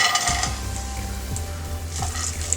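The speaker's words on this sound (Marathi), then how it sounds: "तुपात 1 ते 2 मिनिटं थोडं परतून घेऊया" A spoonful of ghee sizzles steadily in a pan while chopped dry fruit pieces are stirred, with a few soft scraping and clinking sounds from the spoon.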